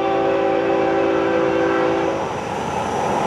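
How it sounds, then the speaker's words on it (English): FEC105, a freight train, rolls through the Michigan Street grade crossing at dusk, with a loud sustained horn blast over the rumble of rail cars close by. "FEC105 has just activated the crossing protection at Michigan Street."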